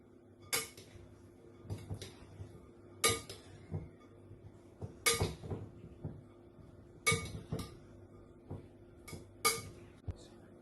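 Baked mac and cheese with prawns and mixed vegetables being stirred together in a dish, heard as about a dozen separate sharp spoon knocks and scrapes against the container at an uneven pace, fairly close with quiet pauses between them.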